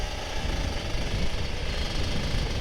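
A Kawasaki Ninja RR 150 two-stroke motorcycle engine revs high, a dense, rattling buzz held steady and loud from close by, with no talk.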